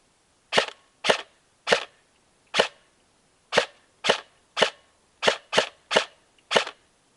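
Eleven muffled, sharp pops fire at irregular intervals, each a short suppressed snap from an airsoft gun with a silencer firing BBs, with near silence in between.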